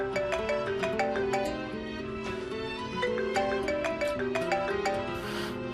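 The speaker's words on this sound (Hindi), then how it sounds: "ऑफिस से फोन है" A melodic electronic phone ringtone plays continuously, its bright repeating note pattern looping clearly with no voices over it.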